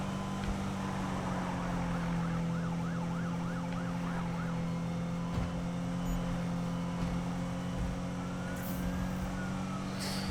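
A police car siren wails in Need for Speed 2015, its rising-and-falling tone fairly faint beneath a steady droning car engine hum.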